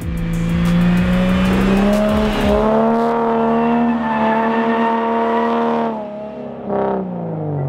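A car drifting with countersteer while doing donuts: a loud, steady engine roar holds and shifts pitch, with tire squeal running through it and no voices.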